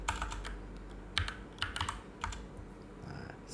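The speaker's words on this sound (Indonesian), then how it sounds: "kemudian ketikkan di sini Pixel" Typing on a computer keyboard while entering a search term, several quick clustered key clicks followed by a pause and a few more taps, close and fairly quiet against a low background hum.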